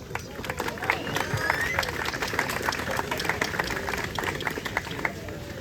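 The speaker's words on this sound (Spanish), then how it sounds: "Vamos, un fuerte aplauso al profesor." A crowd at a university event applauds a professor steadily, many hands clapping in a dense, continuous patter with some voices mixed in.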